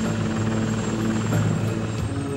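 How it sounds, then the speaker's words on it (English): A Bell AH-1Z Viper attack helicopter with a four-bladed bearingless rotor flies nearby, its engine whine and rotor throb droning loud and steady for a couple of seconds without speech. "the next incarnation of this attack aircraft, with a four-bladed bearingless rotor, may be called the Viper"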